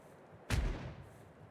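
A single heavy cannon boom from a sailing ship firing a broadside in the game Caribbean Legend, one loud close blast that rolls off into a fading rumble, with no voices.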